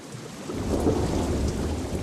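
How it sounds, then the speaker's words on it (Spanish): Heavy rain pours steadily with a deep rolling rumble of thunder swelling through the middle, a dense, loud storm with no voices. "Llovió durante millones y millones y millones de años."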